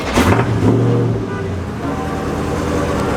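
An Infiniti Q50 engine idles and revs close by as the car pulls up, a steady motor rumble with traffic noise around it.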